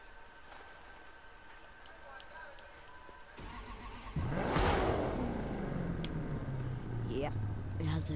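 A Chrysler SRT V8 engine fires up and revs in a car game, its loud roar swelling after a quieter stretch and then settling into a rumbling idle, with a voice talking over parts of it.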